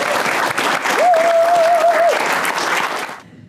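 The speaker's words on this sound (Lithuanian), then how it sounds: "palaikam Karoli plojimai" A studio audience at a comedy game show claps steadily and loudly for a contestant, a dense sustained applause with a short tonal sound over the middle, tapering off at the end.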